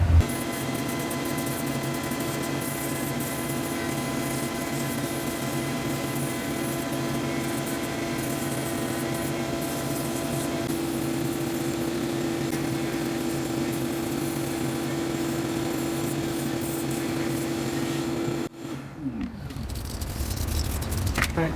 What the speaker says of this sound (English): Alright, so I have the sanding wheel.